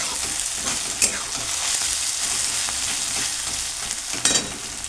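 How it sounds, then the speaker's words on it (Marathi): Sliced onion fries in hot oil toward a golden brown for chicken dum biryani, a close, steady sizzle with a couple of sharper clicks from stirring and no talking. "कांदा माझा इकडे गोल्डन ब्राऊन रंगावर तळायचं चालला आहे"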